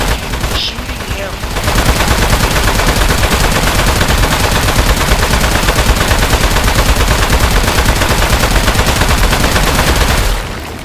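Rapid, loud gunfire shooting at a robot in the video game Aperture Desk Job, a sustained burst of automatic shots that runs nearly unbroken for about eight seconds after a short quieter start.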